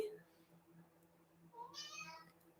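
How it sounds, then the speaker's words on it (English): A house cat meows faintly over a quiet indoor hum, a soft short call at the start followed by a longer, rising meow near the end, heard alone without talking. "Can you hear the cat?"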